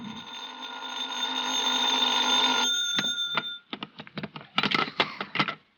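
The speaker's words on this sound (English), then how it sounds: "I was still in bed when the phone rang." A telephone bell rings in a 1956 radio drama: one long, loud continuous ring for nearly three seconds, then a series of short, sharp bursts of ringing, with no voices over it.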